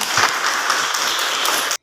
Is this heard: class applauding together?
yes